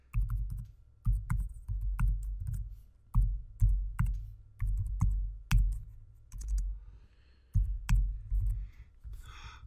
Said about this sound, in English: Actually, I'm going to type in an email address.